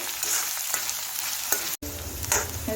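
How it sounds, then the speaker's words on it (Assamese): Onions sizzle steadily in a hot pan, a constant crackling hiss with occasional stirring scrapes. "পিঁয়াজখিনি অকণমান সময় ভাজিব লাগিব, ৰঙচুৱা হোৱালৈকে।"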